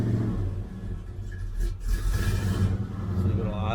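A cold GM car engine idles with a continuous low, rough rumble close by, and a voice speaks briefly over it.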